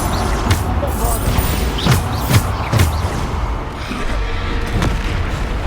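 Bombarda spell blasts in Hogwarts Legacy land as a quick series of heavy booms and crashes over continuous game combat noise, roughly four sharp impacts spaced about a second apart.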